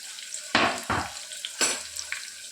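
Sliced onions and green chillies dropped into hot oil for a mutton curry, giving bursts of loud sizzling and frying with stirring scrapes, then a steady softer crackle continuing alone.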